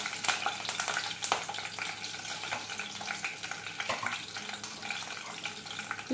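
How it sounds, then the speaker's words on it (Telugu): Green chilies and curry leaves fry in hot oil for a chicken curry, a continuous close sizzle and hiss broken by occasional clinks and stirring scrapes, with no talking. "ఒక 2 పచ్చిమిరపకాయలు తుంచి వేసుకోండి. కొంచెం కరివేపాకు వేసుకోండి."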